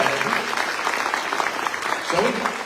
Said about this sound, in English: Big round of applause for the employees of Social Security